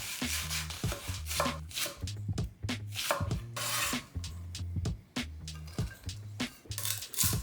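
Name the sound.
peeling and dicing an onion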